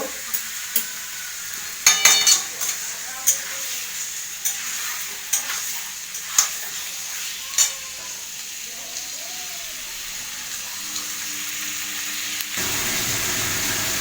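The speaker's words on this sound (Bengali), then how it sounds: "আদার সাথে ভালো করে একটু কষাবো।" Spices and ginger sauté in a pan with a soft, continuous sizzle, punctuated by periodic scraping stirs and taps of a utensil, moderately close and without talk.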